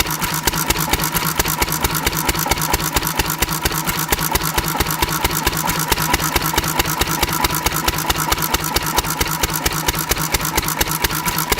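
A small engine running on SeaFoam fuel additive in place of gasoline idles with a steady rapid chugging pulse, loud and close throughout, with no talking over it.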